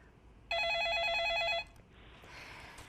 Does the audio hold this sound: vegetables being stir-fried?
no